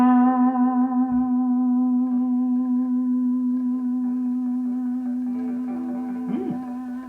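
A single sustained electric guitar note on the bridge pickup rings out through a Monoprice Stage Right 15 amp, bright and slightly distorted, holding steady and slowly fading with a brief bend near the end.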